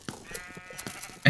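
Sheep in a Minecraft minigame give a few short bleats amid scattered game clicks and effects, with a louder burst right at the end.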